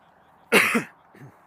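A single sharp cough up close, followed by a quieter throat-clearing rasp.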